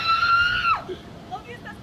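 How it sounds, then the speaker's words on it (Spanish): A woman lets out a high, sustained horror-movie scream that ends in a sharp downward slide, followed by a few faint, scattered vocal sounds. "Necesitamos un grito de asesina."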